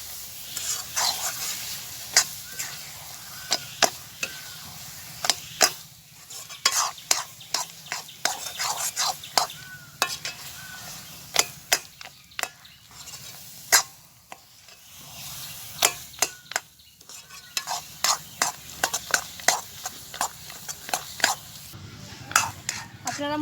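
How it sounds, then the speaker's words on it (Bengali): Olive pickle with ground spices and five-spice tempering is stirred in a pan, sharp metal spoon knocks and scrapes sounding close and irregular over a low sizzle, with brief quiet gaps between bursts of stirring. "এবার ভালো করে মিশিয়ে নেব।"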